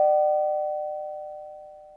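Nest Hello video doorbell chime by Google, a single clear electronic ding whose tone rings on and slowly fades over two seconds, alone with no talk.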